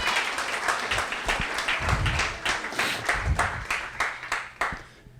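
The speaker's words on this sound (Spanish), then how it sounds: "En el nombre de Jesús, alguien déle un aplauso al Señor si está convencido que cuando Cristo vuelva" A church congregation at a Spanish-language service claps together, a brisk run of scattered clapping bursts at moderate loudness that thins out toward the end over about five seconds.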